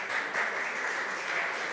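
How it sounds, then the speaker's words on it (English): Steady applause from an audience welcoming a student speaker at a talk, a dense even wash of clapping filling the whole moment at moderate level. "Big round of applause."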